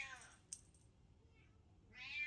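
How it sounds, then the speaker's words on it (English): A house cat meows to be let in, with a couple of distinct meows at the start and end, moderately close over quiet room background. "my cat wants to come in."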